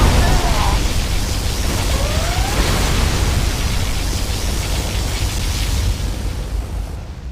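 A particle cannon firing in Command & Conquer Generals Zero Hour, a sustained loud roaring blast of broadband energy that holds steady for several seconds and slowly tapers, with faint sweeping tones early on.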